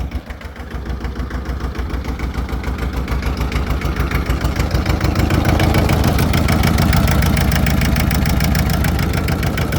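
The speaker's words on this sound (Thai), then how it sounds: "เครื่องยนต์เดินนิ่มจัด" An old Iseki TS2210 diesel tractor engine idles loudly up close, chugging with a rough, steady knocking rhythm that grows slightly louder.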